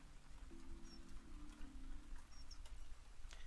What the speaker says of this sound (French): Est-ce qu'on a un petit bruit de pluie qui déchire bien?